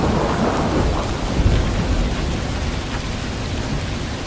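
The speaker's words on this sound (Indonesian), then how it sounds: "Hujan terus turun hingga jelang petang." Heavy rain pours steadily as a radio drama sound effect, a dense hiss with a deep rumble of thunder rolling underneath near the start, loud and continuous throughout.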